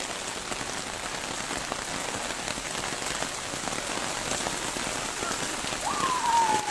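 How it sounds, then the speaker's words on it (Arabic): Heavy rain pours steadily in Mohammedia, a dense, continuous hiss of drops drumming on surfaces, swelling slightly louder near the end, with no voices. "أمطار الخير جيت المحمدية"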